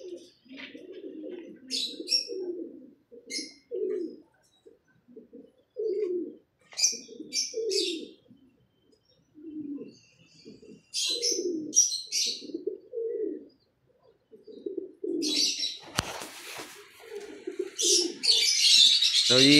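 Pigeons from a breeding pair being shown off, cooing in repeated low rhythmic phrases nearby, with scattered higher chirps and a brief burst of wing flapping toward the end.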